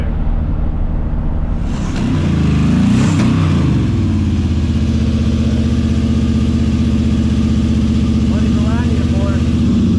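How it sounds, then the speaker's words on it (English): A truck motor fires up in a driveway with a rising whoosh, then revs and settles into a loud, steady close-up rumble, with some talk likely beneath the engine noise. "The guy's actually going to start up that motor for us in his driveway"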